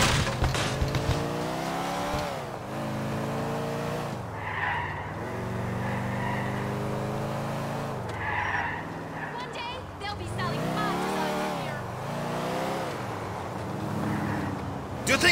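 A car is driven in Grand Theft Auto IV, with a loud engine roar and repeated tire squeals and skids through the turns, while in-game characters talk over it.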